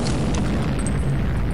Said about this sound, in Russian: Она еще и взрывается.